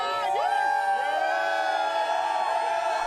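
A crowd of Washington Nationals fans in the Salt Line bar cheers and whoops continuously at a superfan's 9-inch beard trim, a loud, dense wall of shouting voices that holds steady throughout.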